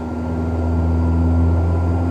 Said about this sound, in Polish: Słyszymy, jak silnik zaczyna nam pracować na wyższych obrotach.